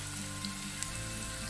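Ginger garlic paste and fennel seeds frying in oil for crab masala, a faint, steady sizzle heard alone over a brief moment.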